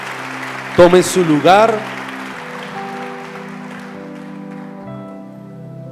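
A church congregation breaks into a short burst of applause during a Spanish-language service, a few quick loud claps that fade out as someone speaks and a steady musical drone continues underneath.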